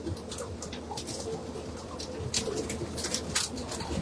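Pigeons coo softly inside a loft crowded into a few sections, low murmuring calls under scattered bright chirps and faint patter, with a constant soft background.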